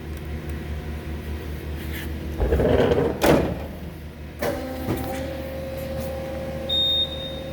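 A small lathe fitted with a fancy chuck in a woodworking shop clunks as it is switched on, then settles into a steady, close motor whine.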